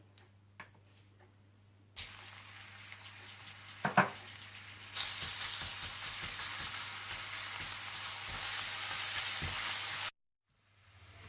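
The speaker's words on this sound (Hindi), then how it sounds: "तेल में आप लहसुन डाल दें और इसे थोड़ा सा भून लें।" Garlic sizzles in hot oil, a steady close frying hiss that swells after a few clinks and taps, then cuts off abruptly.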